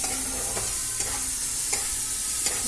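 Star fruit chutney is stirred in a pan over a dense, steady sizzle, with a few light scrapes of a spoon spaced through the short stretch.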